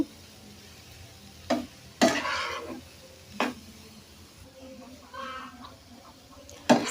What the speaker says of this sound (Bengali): এখন আমি দিয়ে দিব চিংড়ি মাছ। চিংড়ি মাছটা দিয়ে দিলাম। এখন আমি নাড়াচাড়া করে নিব।